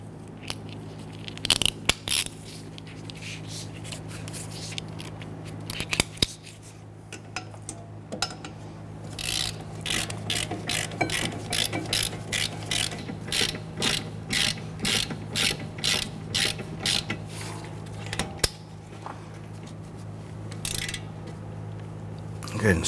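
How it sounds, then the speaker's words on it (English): A ratchet snugs down a brake caliper bolt on a 2010-2019 Ford Taurus during a rear brake job. It gives a quick series of close, regular clicks under a steady background hum, with a few louder clunks and brief speech mixed in. "Let's go ahead and pop our ratchet on there and we'll snug that down."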